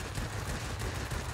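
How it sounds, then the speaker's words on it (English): Aircraft cannons fire in World of Warplanes, a Japanese A6M2 fighter loosing a dense, continuous burst that stays loud and rumbling for the whole short moment. "Hopefully, let's go, cannons."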